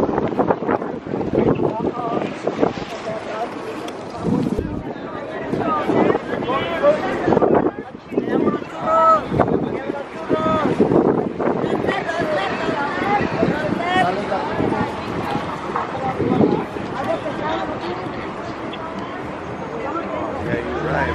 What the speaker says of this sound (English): Real windy.